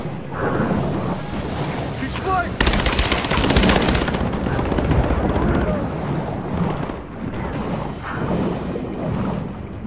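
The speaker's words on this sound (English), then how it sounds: "We've got gunfire!" Heavy gunfire in the video game Rise of the Tomb Raider, a dense burst of rapid automatic shots in the middle of a loud, rumbling game soundscape.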